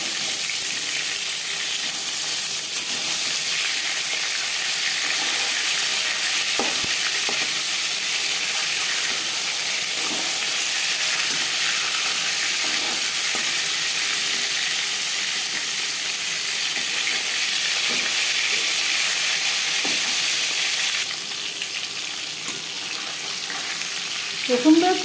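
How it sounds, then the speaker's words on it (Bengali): Bhangar fish frying in hot oil in a home kitchen, a steady close sizzle and crackle that runs unbroken for the whole stretch with a few faint clinks, the bubbling easing slightly near the end. "একটা সাইড ভাজা হয়ে গেলে অপর সাইডটা উল্টে দেব।"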